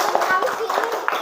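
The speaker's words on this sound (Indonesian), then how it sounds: "tepuk tangan dulu untuk kelompok 1" Students in a classroom clap for a student group, a short burst of uneven, close claps from a small group with a voice mixed in.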